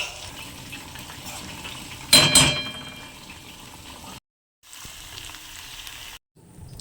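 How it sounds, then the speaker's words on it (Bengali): A homemade hair oil mixture stirred in a pan over a low flame. A brief loud sizzling burst is followed by a softer bubbling hiss, broken by two short stretches of silence. "লো ফ্লেমে এটাকে ভালোভাবে নাড়িয়ে নাড়িয়ে নাড়িয়ে নাড়িয়ে তেলটাকে তৈরি করতে হবে"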